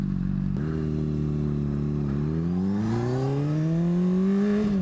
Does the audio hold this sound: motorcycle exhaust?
yes